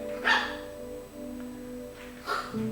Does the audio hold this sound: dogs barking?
yes